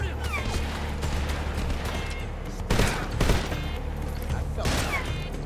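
Rapid gunfire in a Metal Gear Solid Delta: Snake Eater cutscene, sustained automatic bursts over a rumbling backdrop, with a few louder, sharper shots punching through near the middle and end.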